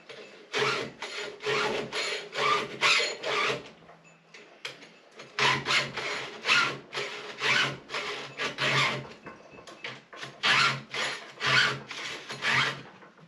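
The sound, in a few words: file sharpening a chainsaw chain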